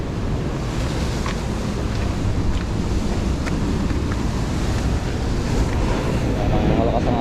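Strong ocean waves and wind roar together in a continuous loud wash, heavy buffeting on the microphone throughout, with no clear speech.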